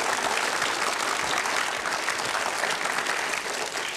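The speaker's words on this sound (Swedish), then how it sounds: "Väldigt varma applåderar den här publiken" Warm applause from a studio audience at a Swedish children's quiz show, a dense, steady wash of clapping held at even loudness throughout.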